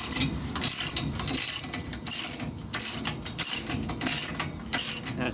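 Ratchet wrench turning a 19 mm deep socket on a trailer, giving bursts of rapid clicking in repeated strokes with brief pauses between them, loud and close, no speech.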